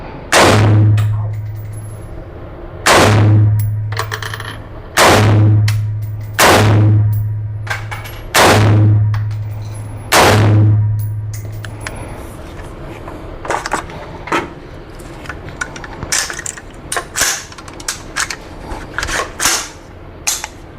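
Six loud Taurus T4 pistol shots ring out at an outdoor range, spaced about two seconds apart and each with a booming echo, followed by quieter handling clatter and movement.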